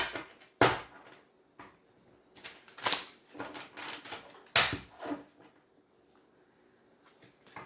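Large, stiff cards are shuffled in several bursts of riffling and slapping, close and fairly quiet, with pauses between each shuffle.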